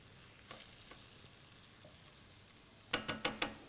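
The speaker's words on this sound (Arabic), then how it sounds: "بدنا نضلنا نقلي قطع الدجاج لحتى يتغير لونهم ويتحمروا او يصيروا هيك لونهم بني فاتح" Chicken pieces fry in oil until browned, a faint, quiet sizzle that ends in four quick, louder stirring scrapes in a row.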